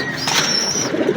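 Cooing from a pair of young Chinese teddy pigeons, a soft continuous throaty coo close by with a faint higher whistle-like tone running through it, no talking.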